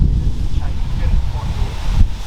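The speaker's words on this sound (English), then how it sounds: "So I brought my gimbal to film some better content, and it's so windy." Steady wind buffeting the microphone at an abandoned mine site in Australia, a continuous low rumble with gusts swelling and fading over a couple of seconds, no speech.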